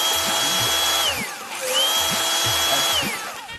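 A power drill whines through two long runs, each winding up to a steady high pitch and then dropping away as it spins down, loud and close, with a short lull between them and no talk.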